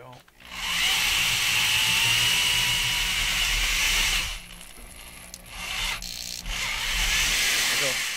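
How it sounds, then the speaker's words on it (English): A plug-in electric drill bores a hole for an auxiliary selector switch install, whining loud and steady for about four seconds, briefly stopping, then spinning up again in shorter bursts close by. "got my tried and true plug-in drill"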